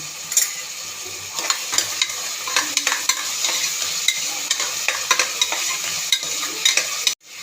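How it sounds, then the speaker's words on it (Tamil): A metal ladle scrapes and clinks against a pan over a constant sizzle of frying tomatoes, with repeated stirring strokes, close up. "கரண்டி வந்து சத்தம் கேட்குது"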